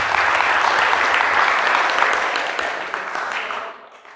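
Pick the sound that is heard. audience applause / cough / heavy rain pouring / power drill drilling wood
audience applause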